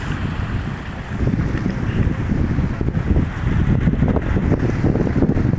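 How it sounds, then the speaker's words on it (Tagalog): Strong typhoon wind roars against the microphone while heavy sea waves surge and crash nearby at a fishport, loud and continuous with no speech. "nalakas pa rin ang mga alon dito. Lakas ng mga alon."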